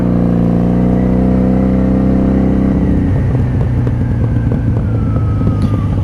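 A wrecked 1997 Honda Magna VF750C motorcycle idles with a steady low drone, then its engine note rises and roughens as it rides off, staying loud and close throughout.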